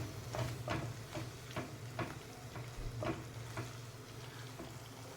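Two dried red chillies fry in a pan for Rajasthani besan gatte curry, a quiet steady sizzle with a rhythmic series of stirring scrapes, close by and alone.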